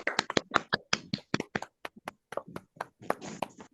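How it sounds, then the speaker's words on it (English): Scattered individual claps come through separate microphones from an online audience after a talk, sharp and uneven slaps spaced irregularly with no talking. "join me in giving Sujit a big round of applause for this fascinating talk"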